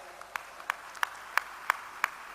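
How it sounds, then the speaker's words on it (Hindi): Audience at a kavi sammelan poetry gathering in Vrindavan welcoming a poet with applause, heard as faint, steady, evenly spaced claps, about seven in a row, distant and thin like only a few hands, with no talking. "उनका भी एक बार जोरदार तालियों से स्वागत करें।"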